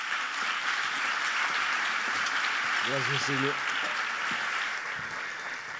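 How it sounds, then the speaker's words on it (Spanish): Audience applause for a speaker at a Movistar conference, a broad, steady wash of clapping throughout, with a short spoken thank-you heard over it midway. "Un aplauso para él."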